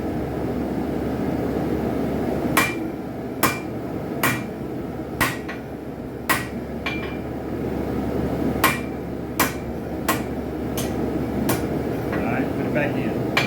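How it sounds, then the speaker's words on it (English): A hot spike being forged into a knife on an anvil, sharp metallic hammer blows ringing out at an irregular pace, about a dozen strikes over a steady background hum of a forge or blower. "it's kind of bent, so just hammer it straight."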